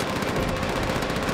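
Enemy machine gun fire in Call of Duty: World at War, a dense, continuous rattle of rapid shots mixed into loud battlefield noise throughout a short stretch.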